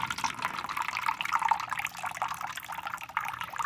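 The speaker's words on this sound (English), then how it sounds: "I'm going to now take this small cup and I'm going to fill it with some water" Water pouring from a tap into a small cup, a continuous close splashing trickle that fills the whole moment with no talk.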